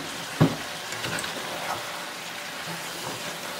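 Spinach wilts and cooks in a pot of spinach sauce, a soft continuous sizzle with an opening clunk and a few scraping stirs, close by and without speech.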